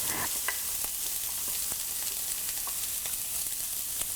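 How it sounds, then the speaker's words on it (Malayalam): Chopped onions sauté in a skillet for a mushroom and eggplant theeyal, with a continuous close sizzle and occasional stirring clicks throughout. "ഈ സെയിം സ്കില്ലറ്റിലോട്ട് നമ്മൾ കട്ട് ചെയ്ത് വെച്ചിരിക്കുന്ന സവോളയും"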